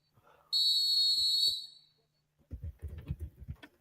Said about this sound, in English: Got the double whistles, a flagrant 2